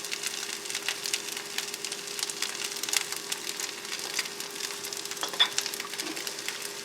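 Shrimp fried rice sizzles in olive and sesame oil in a pan inside a tent, a steady close hiss and crackle with light stirring scrapes and no one speaking.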